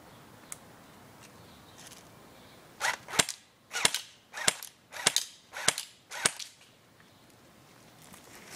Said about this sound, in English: these are pretty powerful airsoft guns. They're not BB, they're like little plastic airsoft pellets